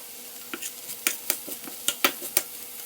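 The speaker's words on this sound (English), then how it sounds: "Now you want to cook the onions until they're kind of translucent." Onions cook in a pan for stuffed green peppers with Mexican meat sauce, a soft sizzle underneath repeated sharp clinks and scrapes of a utensil stirring against the pan, close and steady with no talking.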